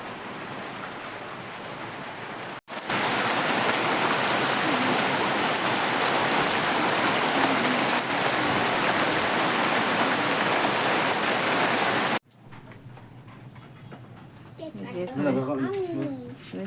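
Steady, heavy rain pours down in a loud, continuous hiss for about ten seconds, then cuts off abruptly. Faint voices follow near the end.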